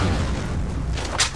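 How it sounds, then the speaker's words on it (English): A grenade goes off in the online shooter Metro Conflict: a heavy, rumbling boom that fills the whole moment, with a brief sharper burst near the end. "Throwing grenade!"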